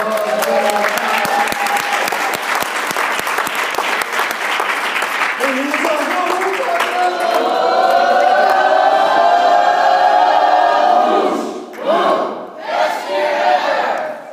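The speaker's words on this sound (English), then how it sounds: "All right, give Natalie a round of applause." Audience at a leadership meeting clapping and cheering loudly, a dense roar of hands and whoops that swells into sustained shouting before breaking off in short bursts near the end.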